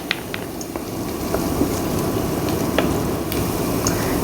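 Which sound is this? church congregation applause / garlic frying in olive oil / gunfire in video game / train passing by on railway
garlic frying in olive oil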